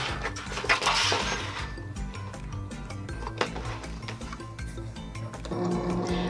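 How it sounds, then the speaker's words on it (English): A Cricut cutting machine loads a mat and starts scoring, giving off a steady mechanical whir with soft clicks and motor movement up close. "Now you can go ahead and load your mat into your machine."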